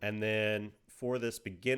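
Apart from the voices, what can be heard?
No everyday noises stand out.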